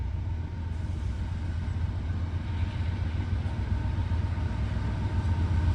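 A CSX AC44 locomotive rolling past, a steady loud low rumble of engine and rail noise with a constant level throughout, no talk.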